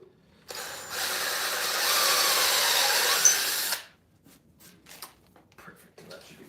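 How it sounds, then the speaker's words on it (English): A power drill bores through a wood bowl blank with a 3/8-inch bit, one loud sustained whir of about three seconds that stops abruptly, followed by quieter handling clatter. "So, I need to drill 2 holes in this thing."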